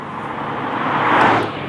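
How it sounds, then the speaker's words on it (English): Air intake roar piped into the cabin of a 2017 Acura NSX, a broad steady whooshing rush that swells louder then eases slightly, heard from inside the car. "inside the cabin here, you're really hearing the air intake noise, which Acura actually sort of pipes into the cabin right behind your head"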